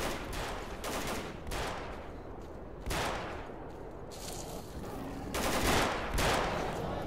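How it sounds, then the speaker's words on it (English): Gunfire in the video game STALKER Call of Pripyat as figures shoot at a mutant: repeated bursts of automatic fire and single cracks separated by short pauses, loud and harsh throughout. "They're shooting some kind of mutant."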